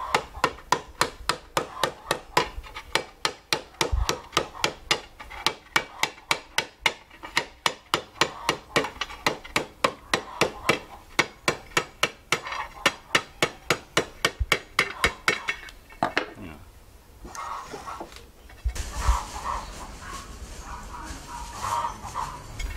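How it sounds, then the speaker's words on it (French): A tinsmith's hammer taps sheet metal flat in a long run of rapid, regular metallic strikes, close and sharp, then breaks into scattered scraping and clattering knocks toward the end. "il faut juste un petit coup de marteau pour remettre bien à plat"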